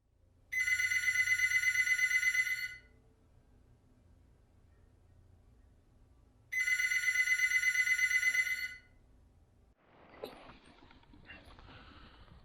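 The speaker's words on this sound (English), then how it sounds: "I've just had a phone call from my wife" Two bursts of an electronic telephone ringtone, each about two seconds long, ring out clearly in a quiet WW2 bunker at night, followed by faint rustling and handling noise.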